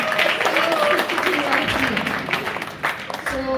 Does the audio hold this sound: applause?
yes